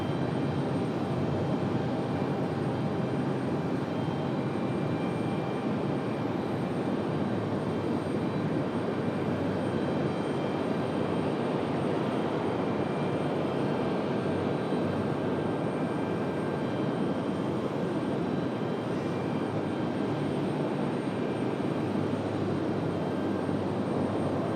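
An airliner departing Raleigh Durham International Airport roars steadily at a distance, a broad continuous engine rumble that holds level throughout with no voices.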